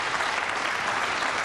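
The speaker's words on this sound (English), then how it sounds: "Earl applauds." Steady, dense applause from an audience at a World 9-Ball Championship 2000 quarterfinal pool match, loud and continuous with no pauses.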